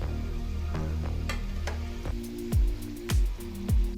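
Spiced samosas deep-frying in hot oil, a continuous close bubbling sizzle with repeated soft thumps and clinks as they are turned.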